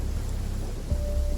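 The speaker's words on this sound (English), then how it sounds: "It's a rainy day." Rain falls steadily in Genshin Impact, a soft continuous patter and hiss with a low rumbling undertone, fairly quiet and without talk.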